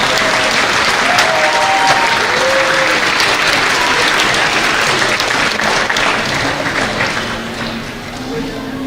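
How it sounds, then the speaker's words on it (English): Audience at a GED graduation ceremony in Santa Cruz County breaks into sustained, loud clapping that fills the room, tapering slightly near the end, with some voices mixed in. "Let's have a hand of applause for Dora."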